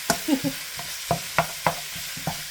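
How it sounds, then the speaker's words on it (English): Food being sautéed and browned with onion and garlic for a quick weeknight dinner: a soft, steady sizzle with several distinct scrapes and taps of a utensil stirring the pan, fairly quiet and close. "let me go ahead and get this all sauteed up and browned. Incorporated with the onion and the garlic"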